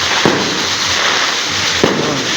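New Year firecrackers go off on the ground, two sharp bangs about a second and a half apart over a loud, continuous rushing background.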